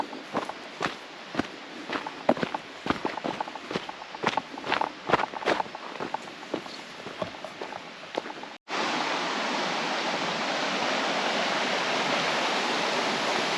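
Footsteps crunch along a trail in the Sunol Wilderness in spring, a run of irregular steps, and then a sudden cut to a loud, steady wash of creek water rushing close by.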